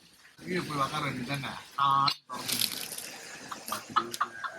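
Water runs from a tap in a short splashing stream while people talk nearby; the flow cuts off and speech continues.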